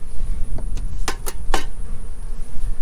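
A low buzzing of honeybees hums close by at a hive, with a few sharp clicks and knocks breaking through.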